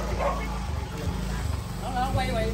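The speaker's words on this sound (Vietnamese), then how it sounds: "nghe nghe chó nó sủa là sợ nha" A dog barks several times in short yips amid people chattering in Vietnamese at a shop opening, the barks fairly close and partly under the voices.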